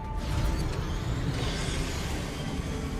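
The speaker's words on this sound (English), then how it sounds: "there's even a minecart racing section in the game" A minecart in the Deliver Us The Moon game rolls along tracks with a dense, continuous rumbling clatter, loud and unbroken throughout.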